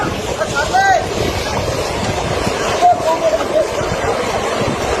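Floodwater rushing through Balasore, Odisha, where a motorbike rider is stranded: a continuous, loud wash of water and wind noise, with voices talking over it.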